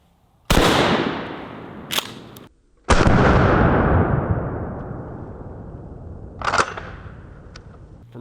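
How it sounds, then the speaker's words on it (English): Two loud 12 gauge birdshot blasts from a Mossberg Shockwave 590M shotgun ring out outdoors at close range, each with a long fading echo and a brief clatter after the first. "We're going to start with just a regular 12 gauge birdshot, and we're shooting it out of the Mossberg Shockwave 590M."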